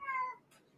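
A house cat gives a single short meow, fairly close and clear, fading into quiet room noise.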